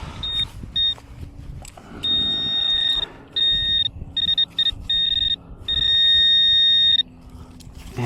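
Nexus MP V3 metal detector with a 10-inch 10 kHz DD coil giving a high steady target tone, sounding in repeated beeps of varying length over faint background rustle.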